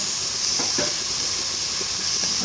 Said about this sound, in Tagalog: sibuyas na napakarami igisa lang natin guys